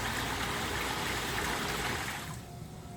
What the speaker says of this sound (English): Much more apparent on high speed, and you can really adjust the waterfall to the flow that